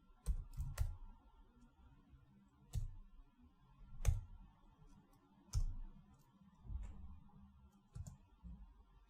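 Someone types on a computer keyboard in short, scattered bursts of crisp clicks and key taps, fairly close and quiet, with no voices over them.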